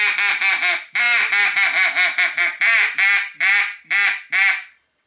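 Hunting duck call blown hard to mimic a duck's quacking, a loud series of about a dozen sharp, nasal quacks in quick bursts with brief pauses, ending in silence.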